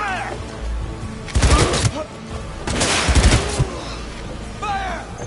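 Gunfire in Cyberpunk 2077 comes in two loud bursts of rapid shots with booming thumps, set against a lower background of game ambience and some faint voices.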